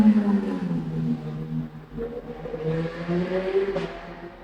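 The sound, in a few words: motorcycle passing by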